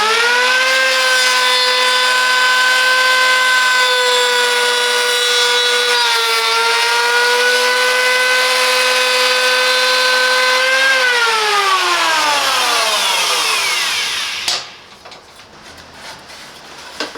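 A Parkside PEH 30 D4 electric planer runs on wood with a loud, close, steady motor whine that holds for about eleven seconds, then winds down in falling pitch and cuts off, with no one talking.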